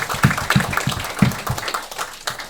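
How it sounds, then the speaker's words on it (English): An audience applauds museum volunteers at a roundtable gathering, scattered claps rather than a dense roar, close and moderately loud, tapering off after a couple of seconds. "Give them another round of applause"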